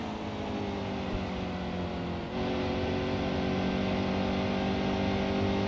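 A race car engine in the NASCAR Heat 2 video game, at Phoenix during a playoff race, holds a loud, continuous high-revving drone with a brief dip midway before the engine returns to full steady throttle, with no talk.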